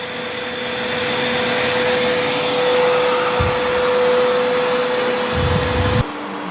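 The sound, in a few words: E28 robot vacuum dock auto-emptying, loud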